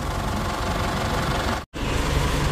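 An Isuzu D-Max with a 4JK1/4JJ1 diesel engine idles roughly and unevenly, a loud, close, continuous rumble with a pulsing clatter and a momentary dropout partway through.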